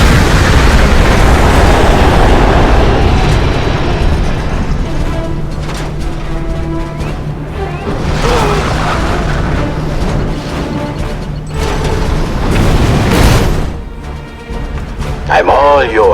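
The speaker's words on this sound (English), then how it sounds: "EMP missiles." EMP missile explosions in a video game, heavy booming blasts and rumbling bursts layered thick and loud, with game voices speaking through the noise.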